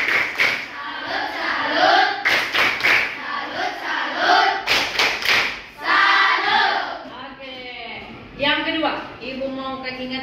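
A school class performs the rhythmic tepuk salut clap-chant, the children chanting loudly together while sharp group claps strike in time at several points.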